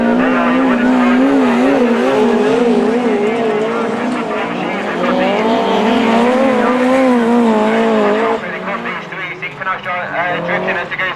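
Autograss race cars drifting around a dirt track at St Neots, engines wailing loud and continuous with rising and falling pitch, while a commentator talks over the racing.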